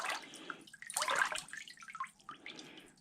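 Water running and dripping out of a model Disney Nautilus submarine's flood holes and drains, as quiet trickles and splashes in irregular bursts with short pauses between.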